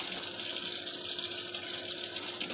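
Tap water runs steadily over a salt cod fillet being rinsed in a kitchen sink, a continuous close hiss and splash with no talking.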